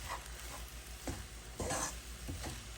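Sago upma with tomato and garlic sizzling in a pan as it is stirred, giving a soft steady fry with several scraping strokes at irregular intervals, close and fairly quiet, no speech.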